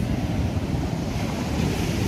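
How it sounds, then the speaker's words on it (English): Rough sea surf breaking on the shore at Half Assini, Ghana, at high tide under cloudy skies: a loud, continuous roar of churning waves mixed with buffeting wind on the microphone. "So always the sea is rough."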